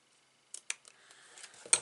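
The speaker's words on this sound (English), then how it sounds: "Just cut the tails." Scissors snip paper ribbon tails during card making, a few sharp, close snips spaced apart, then a faint rustle and a final crisp cut, with no talking.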